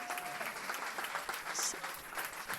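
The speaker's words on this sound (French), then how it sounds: "Est-ce que vous voulez juste l'applaudir?" Steady applause from a conference audience at a strength sports event, a dense patter of clapping that holds evenly throughout at moderate loudness.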